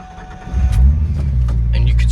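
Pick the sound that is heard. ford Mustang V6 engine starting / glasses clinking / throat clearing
ford Mustang V6 engine starting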